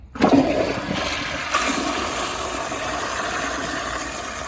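A 1994 American Standard Cadet toilet flushes loudly and close up, opening with a sudden rush of water and followed by a steady gushing, swirling drain and refill noise that continues to the end.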